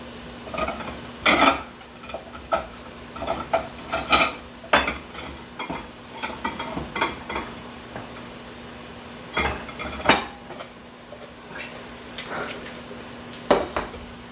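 Food is plated into bowls at home, with close, irregular clinks of cutlery and dishes, scrapes and taps scattered through a quiet kitchen.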